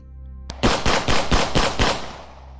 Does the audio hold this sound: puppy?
no